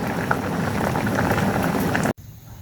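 Bamboo shoot soup bubbles in a pot at a dense, steady rolling boil. The sound stops abruptly near the end, leaving only a faint hiss.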